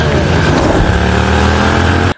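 A police motorcycle's engine roars loudly and close for a couple of seconds as the fallen bike is ridden off in escape, then cuts off abruptly.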